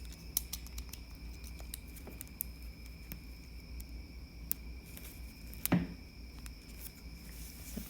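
Scissors snipping through a thin acrylic paint skin, a series of small sharp clicks and crisp cuts at irregular intervals, close up and quiet in an otherwise still room.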